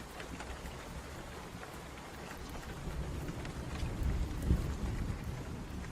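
Steady rainfall hisses and patters, with low thunder rolling and swelling in the background and peaking briefly before settling back under the rain.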